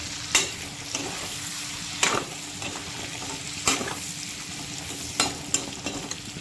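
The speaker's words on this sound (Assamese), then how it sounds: "আৰু লগতে দিছোঁ এতিয়া খুন্দি ৰখা আদা নহৰুৰ পেষ্ট এতিয়া অলপ সময়ৰ কাৰণে এনেকৈ ভাজি ল'ম" Pork frying in a pan with turmeric and ginger-garlic paste gives a steady sizzle, broken every second or so by sharp clatters as the pan is stirred, close and moderately loud with no talking.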